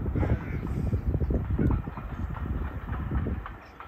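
A steam train on a heritage railway near Bodiam, Kent, rumbles past at a middle distance with rhythmic clatter, alone and fairly subdued, fading slightly at the end.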